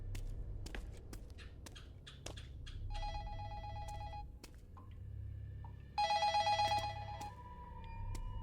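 A telephone rings in the horror video game Incantation, two bright electronic bursts of ringing, each about a second long, heard alone over a low ambient drone with scattered clicks and footsteps.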